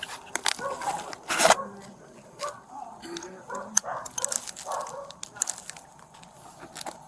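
A dog at a police encounter gives scattered yips and whimpers amid officers' talk and shuffling movement, the sounds brief and irregular rather than steady barking.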